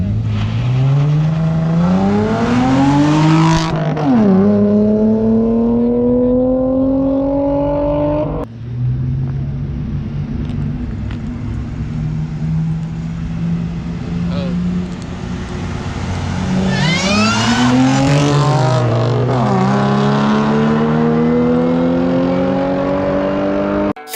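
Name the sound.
supercharged Cobalt SS car accelerating, engine revving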